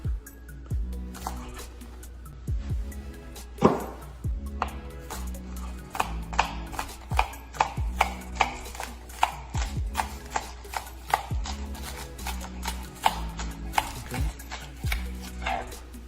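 Scallions being chopped with a knife on a cutting board for Haitian pikliz, a steady run of close, crisp knife taps over a quiet kitchen background, with no talking.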